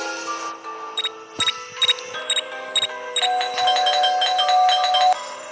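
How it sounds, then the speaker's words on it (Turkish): An electronic doorbell in the video game Scary Teacher chimes repeatedly in quick ding-dong pairs, bright and clear, followed by a sustained synthetic jingle. "Zili çal zili."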